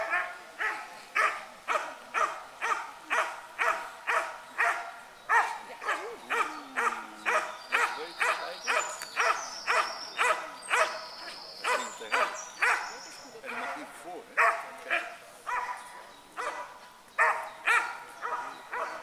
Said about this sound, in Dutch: Kijk, hondjes.